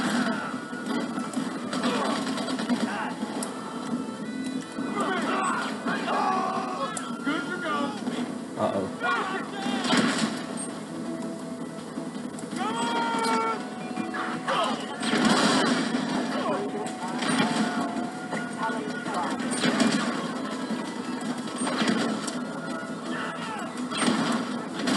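Grenade explosions and gunfire in GTA 5, repeated blasts and bursts of shots at moderate loudness, mixed under ongoing chatter from several players talking throughout.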